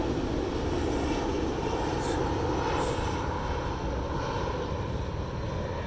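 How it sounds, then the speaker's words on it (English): Airplane engines passing over a campsite in a park, a steady broad roar that stays loud and constant, with no talking. "There's quite a few planes flying overhead in this park."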